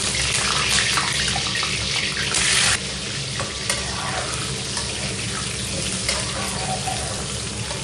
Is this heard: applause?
no